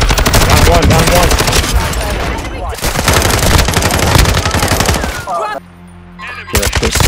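Rapid gunfire from Call of Duty: Warzone 2.0, with dense, loud bursts of shots fired almost continuously, a brief pause near the end, then more firing.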